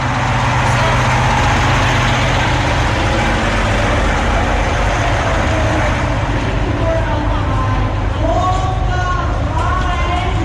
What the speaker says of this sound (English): Trucks are still being fueled up, guys.